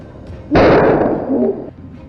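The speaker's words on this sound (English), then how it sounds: "the gunshots scared it off" A burst of gunfire at a wild boar that has broken through a farm fence: one loud, close blast swelling into a sustained roar for about a second before it cuts off, then quiet.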